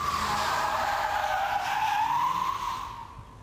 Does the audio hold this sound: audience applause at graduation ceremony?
no